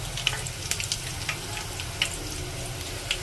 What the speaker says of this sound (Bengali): তো এখন আমি মশলাগুলো দিয়ে দেবো।